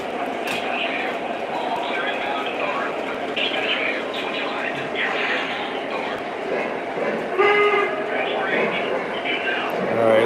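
A Lionel/MTH Allegheny model train runs on a home layout with a steady mechanical whir and rumble, and someone talks over it throughout.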